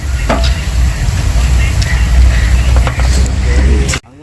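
Jackfruit pieces frying in hot oil for a village-style jackfruit 65: a loud, steady close-up sizzle and crackle that continues throughout and cuts off abruptly at the end.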